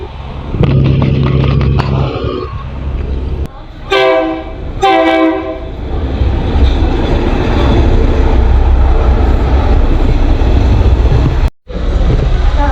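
A train rumbles steadily along with broadband rolling noise, interrupted near the start by two loud, blaring horn blasts close by.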